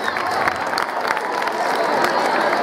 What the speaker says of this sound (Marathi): आपण टाळ्या वाजवायचे।